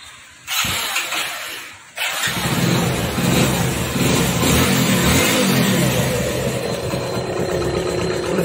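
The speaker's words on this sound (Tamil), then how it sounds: "மாட்டி முடிச்சாச்சு, வண்டியை ஸ்டார்ட் பண்ணி பார்த்துடலாம்." A Hero Splendor Plus motorcycle engine, just refitted in a two-wheeler workshop, sputters briefly, then starts and settles into a loud, steady running drone with mild revving, close by and without talk.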